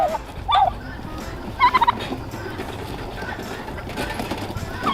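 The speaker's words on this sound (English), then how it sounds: "I'm being stalked by turkeys." A group of turkeys trailing someone on a farm morning breaks into a couple of distinct gobbling bursts, one quick rattling run clearly audible near the mic, then quieter scattered calls over outdoor background noise.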